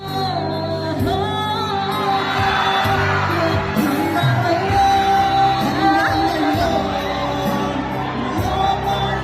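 A crowd at an event shouts, whoops and cheers loudly and continuously at the sight of two pet dogs paired as a teleserye love team, with excited voices rising and overlapping throughout.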